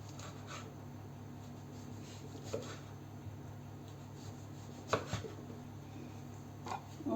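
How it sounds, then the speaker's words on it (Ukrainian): A knife cuts a tomato into rounds on a board, quiet scraping strokes with a few sharper chops spaced irregularly over a low background hum. "Зверху на цей соус нарізаємо помідор кружечком отако"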